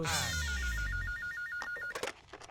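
A telephone rings with a rapid, warbling electronic trill under a swelling musical chord, then the ring stops and brief voices and movement noises follow.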